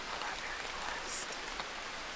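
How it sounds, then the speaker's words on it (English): Steady rain patters down on an Alaskan forest, a dense, even hiss of drops on leaves and ground that holds constant throughout, close and moderately quiet, with no voices. "It's so cool being here now that it's raining"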